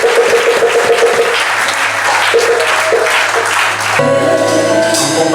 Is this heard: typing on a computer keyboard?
no